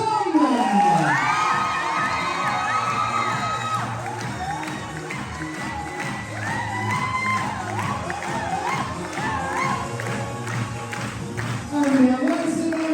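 Audience at a beach resort in Corfu cheering and applauding during an evening show: excited shouts, whoops and clapping from a lively crowd over loud music, continuing throughout with a surge near the end.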